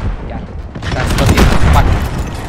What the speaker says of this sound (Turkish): RPG var abi. Biri roket atıyor.